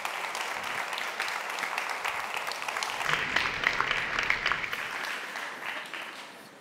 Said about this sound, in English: And so please give a warm round of applause to Jeff as he comes up.